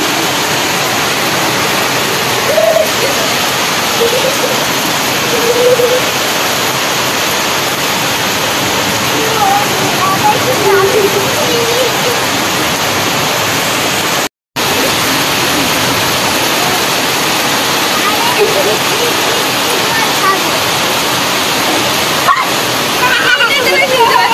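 Heavy rain pours down in a dense, loud, continuous wash, with faint voices and a dog's whimper now and then beneath it.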